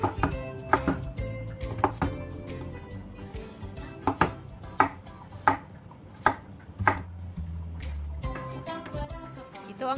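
Garlic and onion being chopped with a knife on a board, a series of sharp, close, irregular thuds with short pauses between bursts, no talking.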